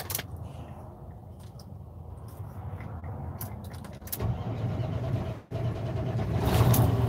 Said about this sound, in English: let's go ahead and try to crank her up one more time